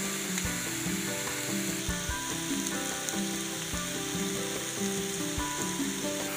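A ribeye steak sizzles in a pan, a steady dense crackle with occasional louder pops, close and continuous with no talking.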